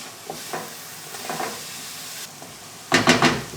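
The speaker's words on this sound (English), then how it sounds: "Just keep stirring everything for a few minutes until the onions have become soft and almost translucent" Onions and vegetables sizzle in a frying pan for cottage pie while a utensil stirs, scraping in short bursts with a louder clatter of stirring near the end, close and with no talking.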